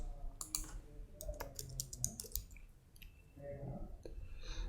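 A computer mouse clicks while Extensions is opened in Visual Studio Code, a handful of quiet, sharp clicks in quick bursts, close by and faint overall, with soft talk in places.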